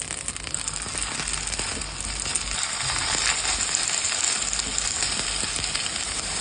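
Zucchini cutlets sizzle and crackle in hot oil in a frying pan, a dense, close, continuous frying hiss that holds steady throughout with no talking.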